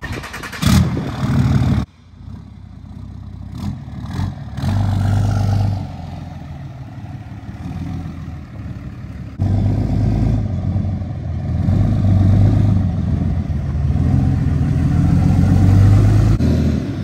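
Dodge Mega Cab pickup truck engine idling and creeping while backing up to a trailer, a steady low diesel rumble with a short dip near the start, close and continuous with no talk.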